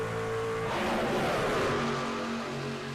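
Race truck engines roaring in an iRacing sim race at Talladega, a loud continuous drone as several trucks pass close by, pitch shifting as they go by.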